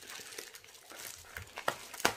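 A pair of scissors snips through paper or tape in a few short, crisp cuts, the last two the loudest, with faint rustling in between and no talk.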